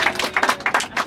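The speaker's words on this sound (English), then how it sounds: "How about a round of applause for our driver?" Quick applause for a bus driver on a tour coach, sharp hand claps in a fast uneven rhythm, close and fairly loud, brief and alone without talk.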